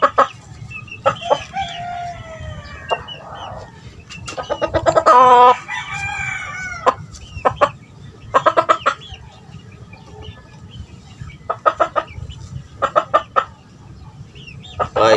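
Gamefowl chicken clucking in short bursts while being handled for leg stretching by a small breeder, with sporadic louder crow-like calls over steady low farmyard background noise, close and fairly loud.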